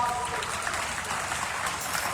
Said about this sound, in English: How about a round of applause paying off?